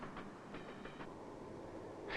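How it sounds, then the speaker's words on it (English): Amtrak and commuter passenger trains rolling on rails, a steady broadband rumble with faint clicking of wheels over track joints, continuous and moderately close throughout. "On the longer runs, Amtrak and commuter trains concentrate on meeting passenger needs."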